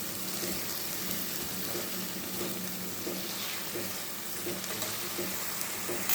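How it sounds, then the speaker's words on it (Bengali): Katla fish masala with salt and turmeric sautéing in oil, a steady, even sizzle with soft scraping of stirring throughout, close and moderately loud, no talking. "এবার ভালো করে কষিয়ে নেব যতক্ষণ অবধি না এর গা থেকে তেলটা ছাড়বে।"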